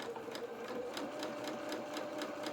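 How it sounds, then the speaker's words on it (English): A sewing machine stitches a straight seam on doll-sized holster trousers with a steady, fast mechanical whir and rhythmic needle clatter. The sound is close and continuous, with no voices. "I'm going to now sew down."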